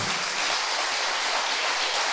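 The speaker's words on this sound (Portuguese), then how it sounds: "você pode dar um forte aplauso a Ele" A church congregation at an evening worship service applauds strongly, a dense steady wash of many hands clapping together with no break, heard continuously throughout.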